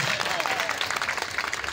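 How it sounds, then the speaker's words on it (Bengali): Crowd applause at an outdoor democracy festival celebration in Thakurgaon, with doves released by guests; dense, steady clapping throughout with some voices mixed in. "আমরা জোরে একটা সবাই করতালি দেই।"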